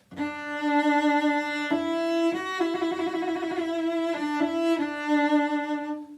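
A bowed string instrument plays a sustained note, then a rapid trill between two pitches ending with a turn, resolving back to a held tone.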